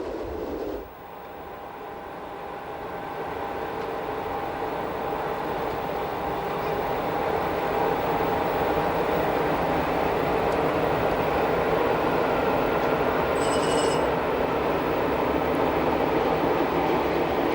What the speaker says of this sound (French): Notre train pénètre dans ce qui semble être un autre tunnel, mais qui n'est en fait qu'une galerie surplombant le lac Oberalp